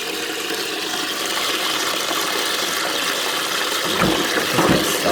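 A restored 1 1/4 inch Cardigan syphon toilet cistern flushes in one steady rushing gush of water, close and loud, with no talking over it.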